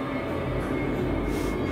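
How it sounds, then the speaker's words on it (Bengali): A metro train approaches through a tunnel, a steady, loud, low rumble of wheels and rails holding throughout without a break. "একটা মেট্রো আসছে।"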